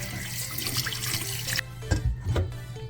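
Tap water runs strongly into a sink while pork is rinsed, a close, full gush that shifts into splashy, irregular flow as the meat is handled under it.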